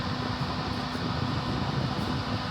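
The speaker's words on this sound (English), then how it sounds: "the fan just kicked on" An RV camper furnace blower fan runs steadily, a continuous broadband whoosh of moving air with a low motor hum, close and even throughout with no talking.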